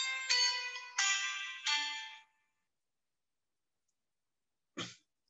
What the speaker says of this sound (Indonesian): sebentar, maaf ada telepon.